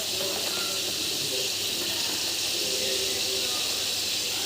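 Cauliflower and chicken fry in oil with a continuous, even sizzle and hiss, steady and fairly close, with no talking over it.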